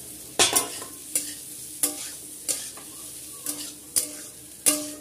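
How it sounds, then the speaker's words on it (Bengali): Fried pumpkin is tossed with bitter gourd in a pan for a curry, a close sizzle punctuated by about seven sharp, evenly spaced spatula scrapes, with no speech. "আমি এখন কুমড়োটাও দিয়ে দিচ্ছি ভেজে রাখা কুমড়ো"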